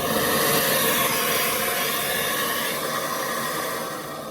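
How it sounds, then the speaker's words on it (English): A broken vacuum cleaner switches itself on with a loud, close, steady rushing whine of motor and airflow that holds for a few seconds and then eases slightly, with no talk over it. "I'm using a vacuum cleaner that is broken, by the way, and for some reason, whenever I move in a particular way, it just turns on"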